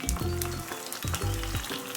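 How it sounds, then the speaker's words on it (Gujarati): Panipuri puris dropped into hot oil sizzle and crackle loudly, with bursts of bubbling swelling and fading in a steady frying rhythm, close by and with no talk. "તેલ ગરમ થઈ ગયું ઘણું બધી આ જો હવે આપણે એમાં નાખી દઈએ પાણીપુરી"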